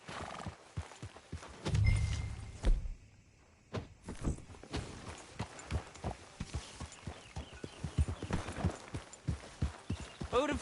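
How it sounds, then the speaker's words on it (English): Horse hooves clip-clop at a walking pace in the Red Dead Redemption 2 video game, with a few whinnies and neighs between the steady footfalls, fairly close and clear, with no voices over them. "Grab your horse and let's go."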